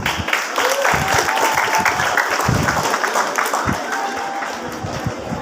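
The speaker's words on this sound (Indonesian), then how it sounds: "Tepuk tangan dulu." Audience applause at a school gathering at SMA Negeri 1 Padang Bolak, a steady wash of clapping from a sizeable crowd, fairly loud and close, with voices mixed in underneath.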